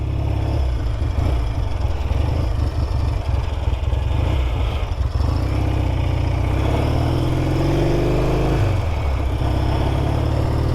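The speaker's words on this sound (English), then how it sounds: "it's a nice little easy bike to start" A Triumph Trophy 500 T100c motorcycle runs continuously after starting, with a loud, close, steady engine and a brief rise in revs near the end, no talking over it.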